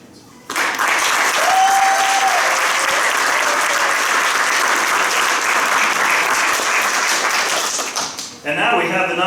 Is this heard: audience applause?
yes